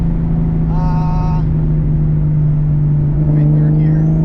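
Tuned 600whp Lexus IS300 accelerating hard on the street, a loud steady engine drone from inside the car, with a brief rising whine partway through and a faint voice near the end.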